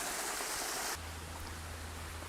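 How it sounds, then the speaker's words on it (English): Water slapping down a small outdoor waterfall, a steady broadband rush that drops in level about a second in, leaving a softer continuous wash with a low hum. "Hopefully you can hear me above all the water slapping down this little waterfall."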